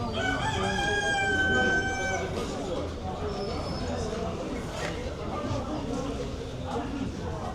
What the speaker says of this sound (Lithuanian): Vištytės, gaidžiukai.